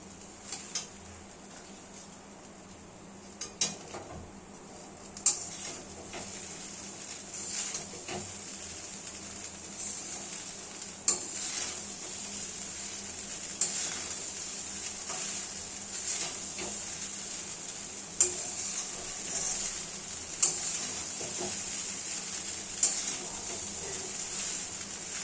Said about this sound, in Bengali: সমস্ত উপকরণ একটু মাখামাখি করে নেব।